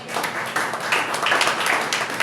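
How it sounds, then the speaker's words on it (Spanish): Church congregation applauding, a brief burst of many hands clapping close by, with a voice faintly present underneath. "Denle un aplauso al Señor."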